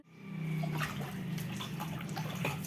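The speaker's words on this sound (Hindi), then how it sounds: "मुंह धो रहा हूँ" Water splashes and runs close by as someone washes their face, a continuous wet gushing with small splashy bursts that lasts throughout.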